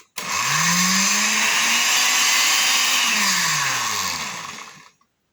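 An AC electric motor is plugged in and runs steadily, a loud, continuous whine and hum whose pitch rises, holds, then dips before it cuts off abruptly, with no talking.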